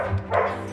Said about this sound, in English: A nice Labrador is behind me.